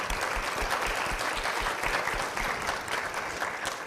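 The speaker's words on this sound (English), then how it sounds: "let's give a round of applause." Steady applause from a crowd at a fall university convocation, dense and continuous with no pauses, at moderate loudness throughout.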